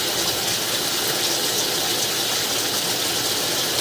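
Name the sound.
water flushing toilet paper down the drain line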